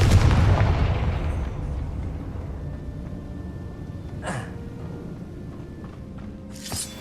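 A Confringo spell goes off in Hogwarts Legacy with a heavy, booming burst that rolls out and decays over several seconds, followed by a brief sharp crack and a few later scattered impacts, with no voices.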